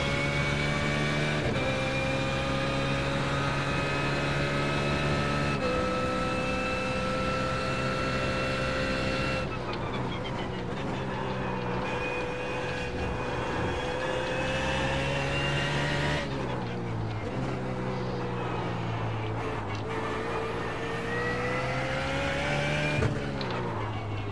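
BMW Z4 GT3 race car in iRacing at the Nordschleife, engine droning loud and steady throughout, pitch rising through each gear and dropping sharply at several shifts, with no voices over it.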